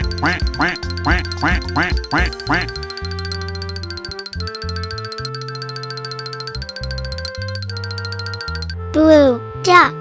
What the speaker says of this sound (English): Blue duck.